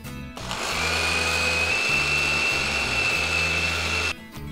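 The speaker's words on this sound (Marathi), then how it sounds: "हे पोहे जे आपण भाजून घेतलेले आहेत हे मिक्सरच्या भांड्यामध्ये काढून दळून घ्यायचे" A mixer grinder whirring as it grinds roasted poha into a fine powder, a loud steady motor drone that starts abruptly, runs continuously close by and then cuts off, with no talk over it.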